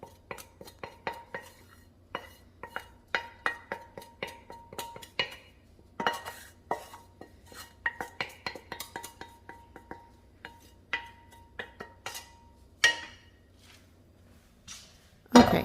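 Cooked meat scraped and moved from a frying pan into a bowl while making enchiladas: steady, close clinks and scrapes of utensil on metal pan and dish, repeating in irregular bursts with a louder clatter at the end.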